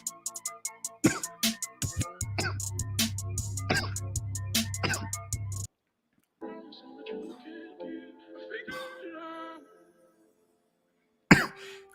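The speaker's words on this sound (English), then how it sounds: "I thought I was done coughing." Repeated harsh coughs in close succession, then a pause, some muffled rustling and movement, and one more sharp burst near the end.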